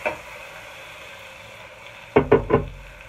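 Raw meat hits a hot pan for a lamb machboos, giving three sharp, loud bursts of sizzling in quick succession near the end, after a low steady hiss.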